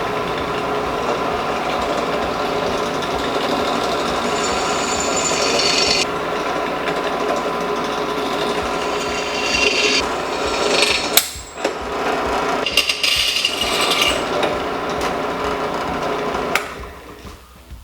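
Metal drilling on a motorcycle shorty muffler for a Maxim XJ650 cafe racer build: a steady, loud, rasping whine that runs without pause, then breaks into short bursts and stops as each hole is finished.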